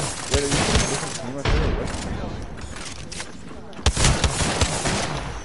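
Rapid bursts of gunfire from the Apex Legends battle royale video game, several loud volleys in quick succession with sharp single shots and short gaps, with voices talking over the action.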